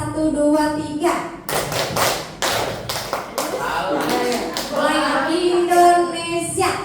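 Teachers at a Guru Penggerak positive-culture training session clap together in a rhythmic group clapping game, several sharp, loud, unison claps in a short sequence between stretches of a speaker's voice.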